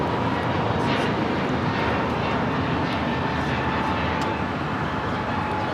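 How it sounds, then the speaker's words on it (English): An American Airlines Airbus A321neo jet roars loudly during its takeoff at Los Angeles airport, a steady, sustained engine blast with a faint high whine running through it and no talking. "2312 taking off to Phoenix on the A321neo"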